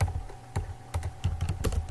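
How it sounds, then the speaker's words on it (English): Keys tapped on a computer keyboard while editing website settings, a handful of separate close clicks in an uneven rhythm over a low steady hum. "as I'm typing it here"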